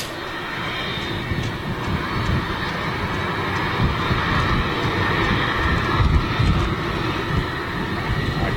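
Yorkshire Airways airliner at Manchester Airport, heard from near the airport pub as a steady low jet engine roar with wind buffeting on the microphone, swelling slightly as it passes.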